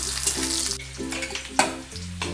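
Fresh coriander fries in hot oil for a Maharashtrian bombil curry paste, a bright crackling sizzle with stirring scrapes and short bursts, close and clear with no talking.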